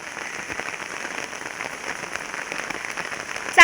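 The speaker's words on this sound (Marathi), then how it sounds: "चांगलंच पडलेलं पण पाऊस" Rain falls steadily outside a house, making an even patter on surfaces at moderate volume. A sudden knock cuts in at the very end.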